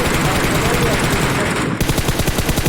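Rapid automatic gunfire in PUBG Mobile, a loud sustained burst of shots that shifts into a slower, distinct rhythmic series of cracks near the end, close and dominant.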